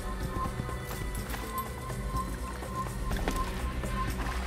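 A horse in Assassin's Creed trots with steady, rhythmic clip-clop hoofbeats over a continuous mid-level game background, with no clear talking.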